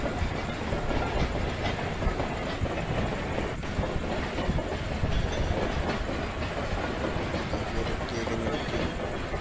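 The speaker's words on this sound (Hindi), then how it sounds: "बड़ी खतरनाक रफ्तार में ट्रेन क्रॉस हो रही है।" A high-speed Indian train crossing a station platform, loud continuous rumble and clickety-clack of wheels rushing close by throughout, with no clear talk.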